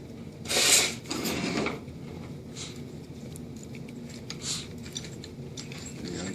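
Ignition switch parts on a 1988 Monte Carlo are worked loose by hand, giving faint, close metallic clicks and small ratcheting rattles in a few brief bursts over a quiet background.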